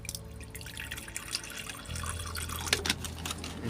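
A little water poured into a Curlyhair tarantula's water dish inside a glass enclosure during rehousing, a faint trickle with soft drips at close range.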